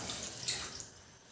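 A glass of water pours into a cooking pan of frying onions and tomato sauce for a tuna dish, making a short, soft splash and gurgle that fades quickly.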